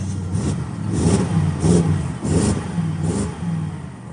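A BMW 6 Series E63 engine runs in freezing cold testing conditions, revving in repeated surges that rise and fall in a steady rhythm, each burst of throttle swelling over a rough, close idle.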